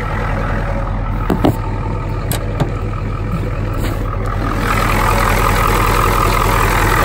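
A 1993 Ford F-250 7.3L IDI diesel engine idles steadily with a deep, constant rumble, close and loud, a couple of faint clicks early on, no talking.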